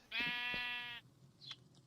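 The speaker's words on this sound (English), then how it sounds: "We have a sheep." Sheep bleat in the Minecraft video game: one long, loud, quavering bleat close by, followed by a softer, shorter sound after a pause.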